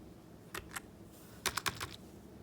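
Keys tapped on an NPET OK 10 wired keyboard: two separate clicks, a short pause, then a quick cluster of four or five keystrokes, close and crisp over a quiet background.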